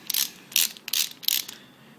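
A ratchet wrench tightens a threadlocked clutch cover bolt on a Suzuki GS500 motorcycle, four quick bursts of ratcheting clicks close up, each followed by a brief pause.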